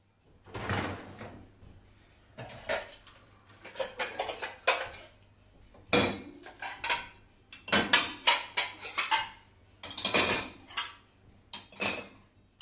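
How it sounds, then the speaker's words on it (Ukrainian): Plates being stacked into a dishwasher, a close series of clattering ceramic knocks and sliding scrapes in irregular bursts with short pauses between, rattling rack movement, no talking. "я кладу тарілки, поклала у посудомийну машину"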